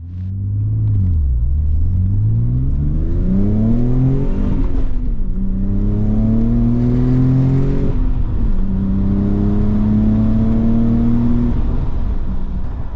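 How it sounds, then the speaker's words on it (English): Nissan 300ZX Z32 twin-turbo engine revving up through the gears, loud and close, with rising engine tones that climb, drop at each shift, and climb again across the whole stretch. "I can see from the boost gauge that the turbo starts spooling"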